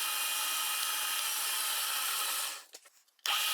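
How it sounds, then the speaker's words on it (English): A steady, high-pitched drilling whir bites a few millimetres into a wooden workbench leg vise to countersink a bolt head, then cuts out abruptly before briefly starting again. "I'm drilling here just a few millimeters to sink the head of this bolt."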